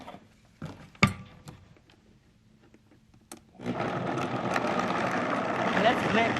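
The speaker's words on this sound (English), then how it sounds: "And let's blend it until it's really smooth." A blender starts up and runs steadily on soaked almonds and 3 cups of water for almond milk, a loud continuous whirring roar that begins partway through after a few quiet kitchen clatters and knocks.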